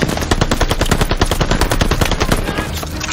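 Tower-mounted machine gun in Call of Duty Vanguard rattles off a loud, continuous rapid burst of shots, dense and unbroken throughout.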